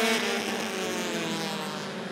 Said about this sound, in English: they're gonna pick up speed, here they come